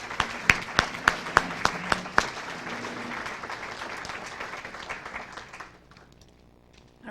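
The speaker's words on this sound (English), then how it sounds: "please join me in applauding our next generation of transportation professionals." Audience applause for students at a college National Signing Day event, opening with several sharp, prominent individual claps over a steady crowd clatter that gradually fades out, leaving near silence before the end.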